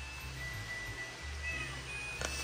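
A cat meows faintly inside a house under renovation, soft calls over a steady low background hum.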